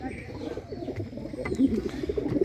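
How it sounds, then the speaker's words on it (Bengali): Pigeons coo in soft, repeated throaty bursts and scuffle against each other inside their coop on a cold winter morning, with a person talking close by. "কবুতরগুলো মারামারি করছে বাইর হওয়ার জন্য অনেক চেষ্টা করতেছে"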